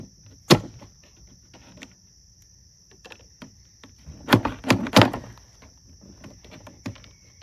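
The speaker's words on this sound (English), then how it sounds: "You can simply take a hammer or a big screwdriver, anything, and just knock these 2 plastic pins out." Sharp metallic knocks ring out at irregular intervals, a single strike first and then a quick cluster of hammer taps knocking plastic pins out of a Coleman cooler handle, close and loud against a quiet background.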